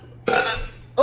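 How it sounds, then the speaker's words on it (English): One short, loud, close burp from a burp contest, croaking for about half a second, then the start of another at the end. "You ain't even burping, huh?"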